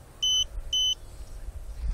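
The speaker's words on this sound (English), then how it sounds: "Those beeps may mean that it's coming home." Two short, high electronic beeps in quick succession from an Autel X-Star drone controller, sharp and close, over a low background hum, during a lost control signal and return-home flight.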